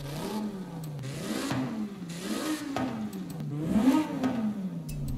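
A V10 super saloon in a racing video game revs up and down repeatedly in rising and falling sweeps, with shifts between them. The engine stays loud and continuous throughout, with no talk.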